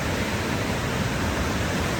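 Near Kullu, a rain-swollen river surges forcefully past a riverside restaurant, producing a dense, unbroken roar of rushing water, close and loud, with no voices.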